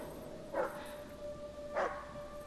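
A dog in the Hidden Agenda video game gives two short, fairly faint barks about a second apart over a low background hum.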